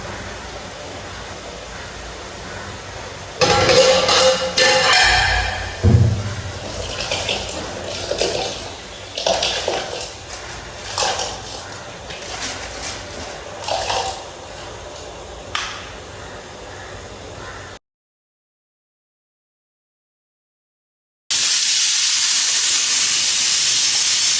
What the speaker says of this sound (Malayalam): വെള്ളം തിളക്കാനായിട്ട് നമുക്ക് അരിയിട്ട് കൊടുക്കാം